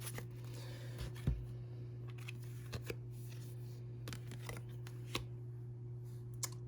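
Tarot cards shuffled and drawn in a reading: soft, continuous papery riffling close up under a steady low hum, with a handful of sharper card snaps and flicks scattered throughout.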